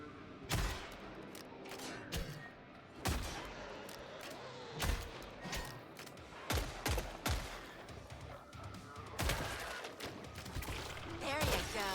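Magnum firing single-shot slugs in the Killing Floor 3 video game: a series of sharp, loud shots spaced irregularly over about twelve seconds, with someone talking in between.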